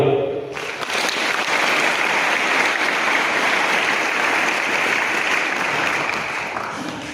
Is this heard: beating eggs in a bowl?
no